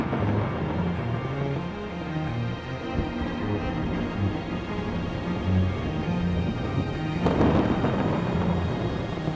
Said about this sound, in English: before the rain unleashes its full force. Almost every day, equatorial forests are drenched.